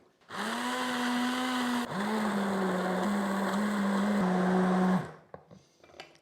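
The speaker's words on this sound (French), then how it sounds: "Donc là, j'y vais au mixeur plongeur, je plonge bien dedans, on lance de partout." Immersion blender plunged into a pot of mussel cream soup, a loud steady motor whine running about five seconds with a brief dip in pitch partway through, then stopping abruptly.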